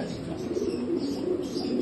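Racing pigeons in a loft give soft, low cooing that rises and falls continuously over a short span, with no voices.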